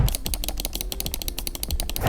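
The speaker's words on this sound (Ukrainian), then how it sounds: "Що стосується клавіш, то вони настільки тихо натискаються, що спочатку я навіть не зрозумів, що вони натискаються." Button clicks from a Logitech MX Master 3S mouse: a rapid, even stream of soft, muted clicks, steady and close, with no talking.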